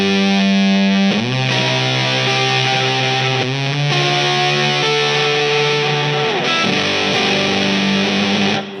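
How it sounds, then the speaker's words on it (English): Electric guitar played through a KHDK Scuzz Box pedal on its Fuzz setting: thick, heavily distorted sustained chords and notes that change every second or two, loud and alone with no talking. "So we'll hear the Fuzz first, which is the first tone we heard Stuart pla"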